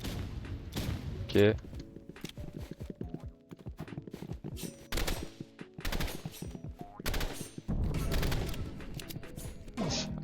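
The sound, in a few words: burst rifle gunfire in video game Roblox Rivals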